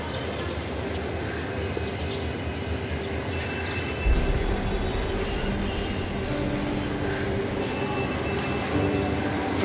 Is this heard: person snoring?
no